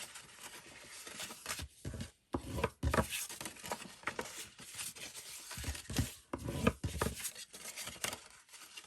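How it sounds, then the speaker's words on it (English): Paper being folded and burnished for a side-opening gift box, irregular close rubbing, creasing and scraping strokes with brief pauses between bursts. "Let's just fold and burnish everything."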